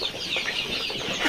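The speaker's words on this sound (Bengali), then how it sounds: "তো টাইগার মুরগি এখানে দেখতে পাচ্ছেন" Month-old tiger breed chickens on a farm give a brief run of close clucks and chirps, with a hint of wing flapping, against a steady background hiss.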